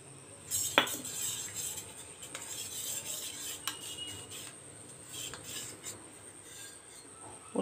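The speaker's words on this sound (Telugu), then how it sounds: "ఇందులో కొద్ది కొద్దిగా బియ్య పిండిని కలుపుతూ" A spoon stirs rice flour into thick buttermilk in a bowl for majjiga upma, making soft repeated scraping and light metallic clinks, close and steady throughout.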